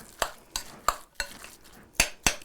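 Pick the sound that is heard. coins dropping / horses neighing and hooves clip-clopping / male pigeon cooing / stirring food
stirring food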